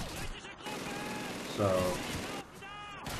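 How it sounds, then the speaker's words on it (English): Heavy machine gun fire in the World War II shooter Call of Duty 2, a loud, sustained burst of rapid automatic shots that stays dense throughout, with someone talking over it. "that heavy machine gun is, like, my best friend right now"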